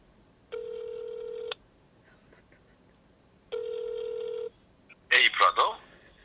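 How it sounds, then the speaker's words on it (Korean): A telephone rings twice in steady electronic bursts during a radio show, with a pause between the rings, followed by a short burst of voices as the call connects. "컬트에게 전화를 해보도록 하겠습니다"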